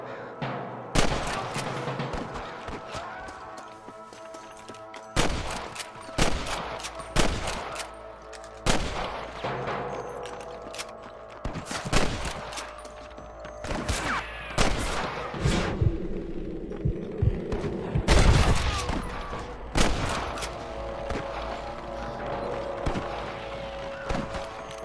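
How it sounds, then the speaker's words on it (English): Repeated gunfire in the Western video game Red Dead Redemption (Enhanced), with sharp shots scattered through a busy game soundscape, some isolated and some in quick clusters, loud and near throughout. "I can hear more gunshots."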